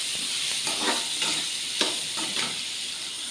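Sundakkai kulambu ingredients sauté in hot oil with a soft, steady sizzle, broken by several gentle stirring scrapes at an irregular pace; fairly quiet and close, with no voices.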